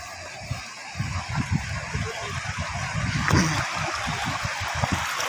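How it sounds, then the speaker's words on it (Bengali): Water rushing past a rubber dam beside a bridge near Mohanpur Bazar, Dinajpur makes a continuous, moderately loud outdoor flow with uneven low rumbling bursts throughout. "শব্দ শুনতেছেন পানির শব্দ,"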